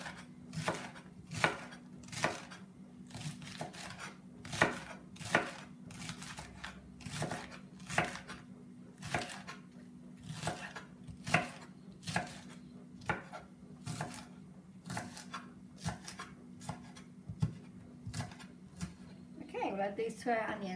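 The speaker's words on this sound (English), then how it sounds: "So now we've got to chop up some spring onions to add to this onion mixture." Spring onions being chopped with a knife on a board, with sharp, close knocks arriving in a steady, evenly spaced rhythm, under a faint background hum and occasional speech.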